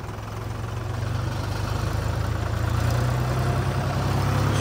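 A Mahindra Arjun NOVO tractor engine running steadily and close, its low throbbing drone gradually rising in loudness as the revs are slowly increased.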